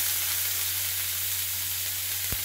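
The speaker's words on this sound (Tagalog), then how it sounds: "Lalagay na rin natin yung ating sibuyas." Chopped onions added to a hot frying pan with garlic, cooking for a sweet-style Filipino spaghetti sauce, give a steady, close broadband sizzle with a low hum underneath and a brief clink near the end.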